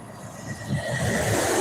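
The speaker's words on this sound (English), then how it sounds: "Now I heard the train headed south." A southbound freight train rumbles past close by, a rising rolling roar with a faint metallic squeal riding on top.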